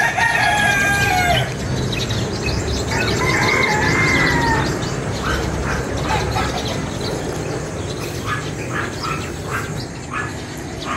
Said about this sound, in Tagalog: Gigising po ang mga manok.